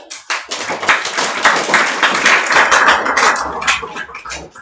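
Applause from a school audience at a career guidance programme, dense clapping that swells and then holds steady for several seconds, loud and close, with scattered sharper claps standing out.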